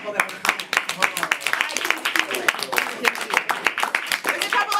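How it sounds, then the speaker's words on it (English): Live audience at a stage show claps for volunteers coming up; dense, sharp, uneven clapping from many hands fills the room, with voices mixed in underneath. "So clap for the brave people that are coming."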